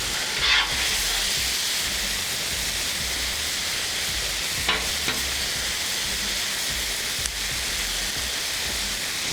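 Steak and jalapenos sizzle on a Blackstone griddle with a steady, close, bright hiss of frying, broken by a few brief scrapes and pops, with no talking.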